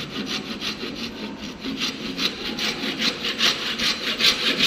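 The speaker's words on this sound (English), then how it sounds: "he take the saw for cutting" A hand saw cuts a wooden workpiece at a carpentry bench in steady back-and-forth strokes, each rasping pass loud and close, with no talk.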